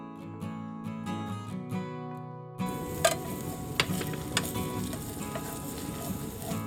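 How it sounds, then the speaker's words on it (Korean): Onions stir-frying in a pan of cooking oil and sesame oil mixed one to one, a steady close sizzle with a few louder crackles and stirring clicks after a quieter start, with no voices. "여기에 양파를 먼저 넣어서 30초 정도 볶아줄게요."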